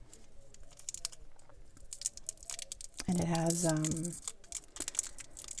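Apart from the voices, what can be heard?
handling paper and plastic cellophane wrapper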